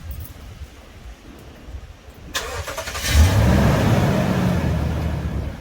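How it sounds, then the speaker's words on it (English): A 2010-2017 Toyota Tundra pickup fires up by remote start after quiet; the starter cranks briefly, then the engine catches and settles into a steady, fairly loud idle rumble close by. "when you click the lock button 3 times like this, the engine will start right up"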